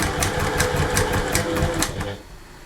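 A sewing machine stitches a cuddly toy bear with a close, rapid mechanical chatter of the needle that runs steadily for about two seconds and then stops.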